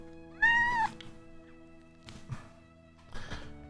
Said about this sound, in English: My cat wants to say something, it looks like.